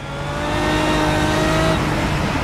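A Pagani Cinque Roadster in Project CARS runs at full throttle on the Azure Coast track. Its engine holds a loud, steady, high-revving drone that builds slightly and then stays level, with no talk over it.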